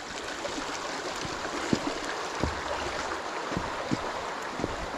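A small stream winding around an S-bend toward the River Derwent, heard as a steady outdoor wash of flowing water with scattered low knocks and taps over the constant rush.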